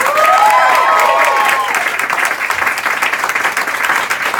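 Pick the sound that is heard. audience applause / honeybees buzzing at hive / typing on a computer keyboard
audience applause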